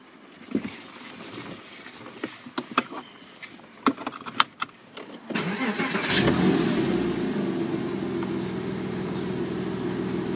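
A Porsche Boxster S 987 with a naturally aspirated engine starts after a few scattered clicks and knocks, then settles into a steady, fairly close idle hum.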